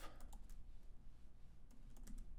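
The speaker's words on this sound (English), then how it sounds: "Type the word diffuse in there somewhere." Rapid, steady typing on a computer keyboard, a close run of light key clicks with no talk.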